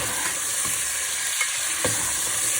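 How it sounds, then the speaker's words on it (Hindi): Ginger garlic paste fries in a pan with a steady close sizzle, punctuated by a few soft scrapes and taps of the stirring spoon; no voices. "थोड़ी सी देर इसकी भुनाई करूँगी।"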